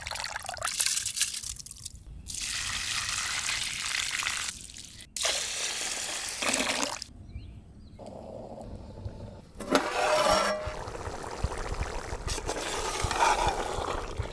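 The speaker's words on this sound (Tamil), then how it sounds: "இந்த மாதிரி தண்ணி ஊற்றி ஒரு 2 டைம் நல்லா அலசிட்டு மூணாவது தண்ணியில் ஊற வச்சிடலாம்." Basmati rice is rinsed in water for goat intestine biryani, with close bursts of pouring and swishing water and trickles broken by short quiet gaps.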